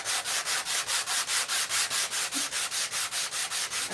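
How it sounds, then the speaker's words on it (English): Wood is hand sanded in quick, even back-and-forth strokes, a steady rhythmic scratching about four or five per second, close and loud with no voices. "let's give this a bit of sanding therapy"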